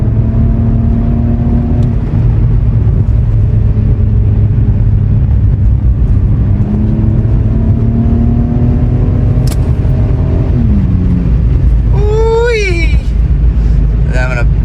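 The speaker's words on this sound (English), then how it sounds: "Downshift one more time and we are gonna coast." A car engine drones steadily while driving, with rising and falling pitch sweeps as the gears shift down, then eases off toward a coast, continuous and close throughout.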